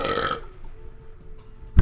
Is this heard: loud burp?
yes